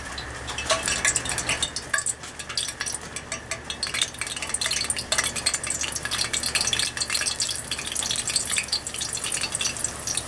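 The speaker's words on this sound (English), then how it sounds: "while our plantains are starting to fry, we already got a little oil in our old skillet" Plantains fry in oil in an old skillet, a dense, continuous crackling sizzle that stays fairly loud and close for the whole stretch, with faint utensil clinks mixed in and no voices.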